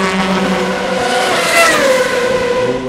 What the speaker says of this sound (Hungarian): egész nap versenygépektől volt hangos az aszfalt